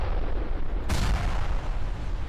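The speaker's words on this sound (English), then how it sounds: "Again, sometimes there's secondary explosions." A sudden loud blast of a secondary explosion in a video game bursts out partway through over constant background noise, then rumbles off.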